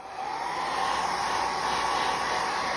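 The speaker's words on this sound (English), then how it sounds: "since I have the hairdryer, it's just a regular hairdryer, I'm going to put it on the low setting" A hair dryer on its low setting blowing steadily with a soft, even whir, close by and continuous throughout.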